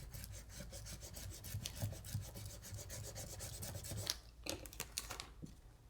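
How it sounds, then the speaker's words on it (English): Plastic Cricut scraper rubbing and rasping over vinyl laid on acetate card in repeated close, steady strokes, faint and dry, with a few sharper scrapes toward the end. "So I'm going to burnish this down."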